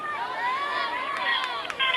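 Lancaster traveling crowd at a regional semifinal high school soccer match cheering and murmuring steadily, a continuous roar of voices with a few sharper shouts toward the end.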